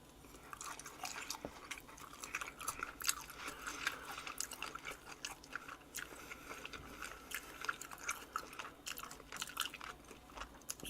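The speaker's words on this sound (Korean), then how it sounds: "우리의 수육고기 마늘하고 초고추장을 살짝 찍어 먹으면 맛있더라고요." Soft, steady chewing of boiled pork (suyuk) dipped in garlic and chili paste, close up, with light wet mouth clicks and crunchy bites through the whole stretch and no talking.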